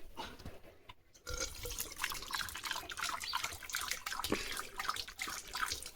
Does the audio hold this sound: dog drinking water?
yes